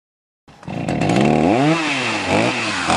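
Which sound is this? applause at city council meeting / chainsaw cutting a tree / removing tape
chainsaw cutting a tree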